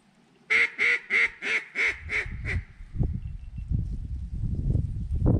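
A duck quacks seven times in a quick, evenly spaced run, loud and close, followed by rustling and thumping handling noises.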